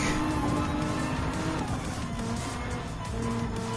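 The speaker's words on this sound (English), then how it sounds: "Okay, gonna have to do the brake." Race car in Gran Turismo 7 braking hard during a World Touring Car 800 race at Nürburgring, engine roar and tire squeal running under each other in a steady, loud skid lasting several seconds.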